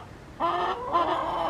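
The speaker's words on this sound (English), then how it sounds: "Chickens are talking." Backyard chickens cluck in two short bursts, close and fairly loud, with a quiet pause between them and no talking.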